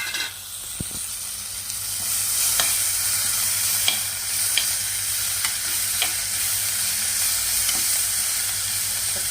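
Tomato hits a hot pan of frying onions, ginger and green chillies, giving a steady close sizzle and hiss with occasional stirring clicks and scrapes, no talk.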